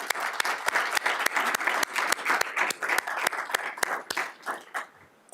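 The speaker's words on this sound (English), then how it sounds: "How about a round of applause for Castleview?" During a school board meeting, a small audience claps for a Castleview choir, distinct sharp hand claps in a quick, uneven patter that thins out and stops near the end.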